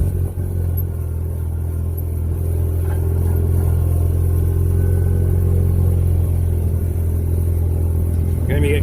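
A vehicle drives around a field while running a seed broadcaster, giving a loud, steady engine drone and low rumble close by with a constant hum and no talk.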